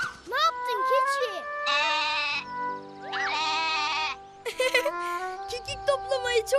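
Cartoon goat bleating in a tuneful, wavering series of calls, some long and drawn out, with cartoon characters talking in between and around them.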